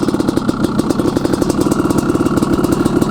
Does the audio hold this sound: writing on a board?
no